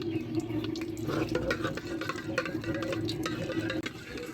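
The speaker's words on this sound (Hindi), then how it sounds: "आधा चम्मच जीरे का है, उसको रोस्ट कर लेंगे हम।" Half a spoon of cumin seeds roasting in two spoons of hot ghee, a steady close sizzle and crackle with faint scattered pops throughout, no talk.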